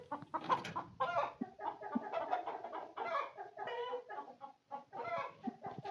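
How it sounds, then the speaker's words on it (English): A hen clucks repeatedly just after laying an egg on a rural farm in Romania, a busy, close run of loud cackling calls with no talking. "Today, I found a hen that had just laid an egg."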